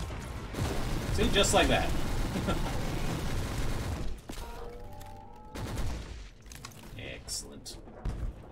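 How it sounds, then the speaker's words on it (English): A grenade blast in Warhammer 40k: Inquisitor - Martyr, heard as a loud burst of gunfire-like booms mixed with battle noise, while someone talks over the action. "Got a grenade."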